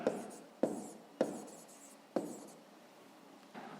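Pen strokes writing an answer by hand on paper during a sixth-grade maths lesson, several short scratchy bursts at irregular intervals, quiet and close, with no voice over them.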